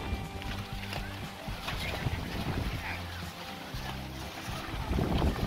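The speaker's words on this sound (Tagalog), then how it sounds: "At ang maganda nito, lakas ng hangin." Strong wind gusts across a lakeside boardwalk by a church at Sampaloc Lake in San Pablo, Laguna, a steady loud rush with low buffeting against the microphone, growing stronger near the end, with faint talk in the background.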